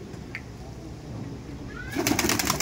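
Sialkoti pigeons in a loft give soft, low cooing over steady background hiss, with a brief rustle of activity near the end.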